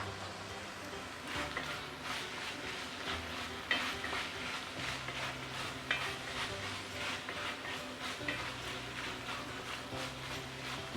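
Vegetables sauté in a cast iron pot for tofu stew, making a soft continuous sizzle broken by repeated scraping stirs and light metal clinks, faint and close.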